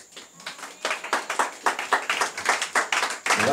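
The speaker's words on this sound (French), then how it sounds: "On acclame le Seigneur Jésus" A church congregation claps in unison to acclaim the Lord, a brisk, steady rhythm of sharp hand claps that starts softly and quickly builds, close and lively with no talking.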